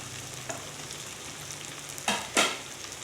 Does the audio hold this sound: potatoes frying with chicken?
yes